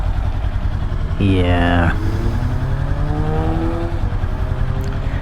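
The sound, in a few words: motorcycle engine without exhaust at a light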